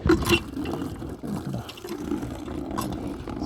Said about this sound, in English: you could come to the pump and you could just pump away and get your water